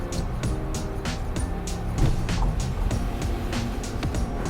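A car drives out of a residential community of new homes in Sarasota, Florida, with a steady, fairly close road and engine rumble and faint rhythmic thumps from the tires running on for several seconds.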